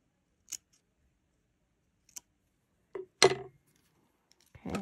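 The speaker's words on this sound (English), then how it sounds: "we're going to want to cut our ties so that they look like they're part of the pom-pom" Scissors snip yarn ties on a crochet pom-pom in a quiet room, giving a few sharp, close cuts spaced irregularly: two light snips, then a louder cluster, then one more.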